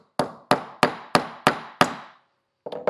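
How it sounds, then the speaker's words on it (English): Six evenly spaced hammer blows drive a nail into a wooden stool, sharp close knocks with short ringing decays, followed by a quick cluster of lighter taps. "we're going to tack in our first nail"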